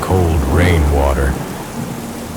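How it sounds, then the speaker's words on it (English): Heavy rain and thunder from a thunderstorm sound effect: a loud rolling rumble over dense downpour, easing after about a second while steady rain continues, with a voice narrating over it. "Rain fell in blinding sheets, and the Wallow began to fill with cold rainwater."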